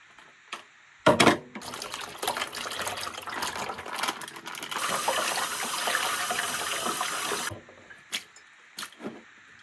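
Tap water pours and splashes into a colander while konjac sashimi is rinsed in a home kitchen, a close steady gush lasting several seconds between brief clatters and knocks.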